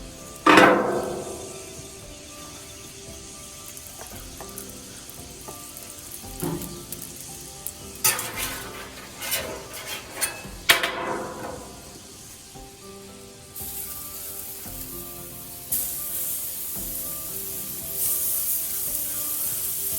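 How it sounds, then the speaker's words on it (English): Smash burgers sizzle and crackle on a hot cooking surface as a bacon press flattens them, with a few sharp pressing and scraping bursts over a steady, quiet frying hiss. "we're using the bacon press to smash."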